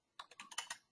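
Quick bursts of typing on a computer keyboard: about six light, close key taps in a rapid, uneven run lasting under a second, quiet and alone.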